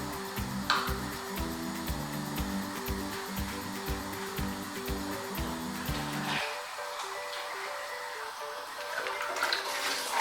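Water runs into a pressure cooker holding beef, a steady close pour with a rhythmic mechanical hum underneath that stops partway through, leaving the flowing water alone.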